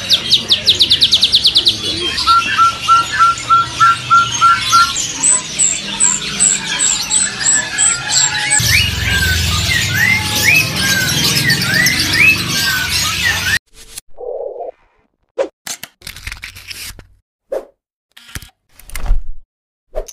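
A male rotol songbird at a bird market sings in rapid bursts of high, repeated chirps over busy market chatter and clatter. Sparse short calls follow after the noisy stretch drops away.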